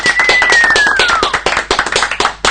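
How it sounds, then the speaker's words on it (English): Brief round of applause for England rugby player Brad Barritt, a cluster of hand claps rising over a steady tone and thinning into scattered, uneven claps near the end. "And PGA clap for Brad Barrit"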